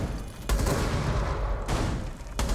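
Gunfire in a video game, a few sharp loud shot bursts at roughly one-second intervals over a background rumble, close and without talk.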